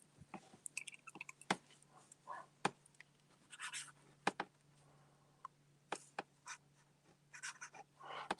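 A broad-nib fountain pen scratches across paper in quick, irregular strokes, with short crisp scrapes and pauses, close and quiet.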